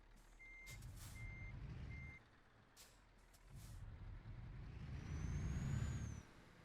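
A cab-nose semi truck backs up on the Paris map of Euro Truck Simulator 2. Three evenly spaced reversing beeps sound over a low engine drone, followed by sharp air-brake hisses and a rising engine note.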